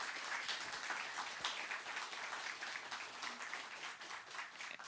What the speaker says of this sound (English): let's give Cam another big round of applause